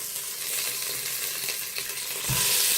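Browned beef tipped back into a saucepan for Thai beef stew, a loud continuous sizzle and frying hiss with some stirring, rising at the end as the meat hits the hot pan.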